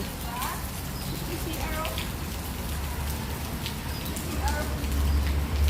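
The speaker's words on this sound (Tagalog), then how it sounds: "umuulan" Steady rain patters down at Gardens by the Bay in Singapore, with voices faintly audible nearby and the downpour swelling a little toward the end.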